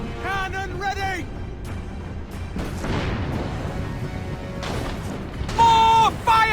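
Ship cannons fire during a naval battle in the video game Assassin's Creed Rogue, with a few heavy booms landing midway, mixed with game sound and spoken character dialogue.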